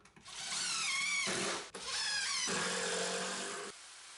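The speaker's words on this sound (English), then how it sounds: "Pre-drill, countersink, and drive the screw through." A power drill drives screws into wood while a heavy-duty custom shelving unit is built: two close, steady whining motor bursts separated by a brief pause, with no talking.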